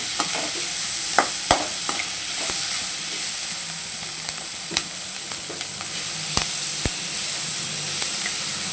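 Ginger sizzles and hisses in a hot pan for a rose-style chutney, a steady close frying noise punctuated by sharp clicks and taps of a spoon against the pan, with no talk.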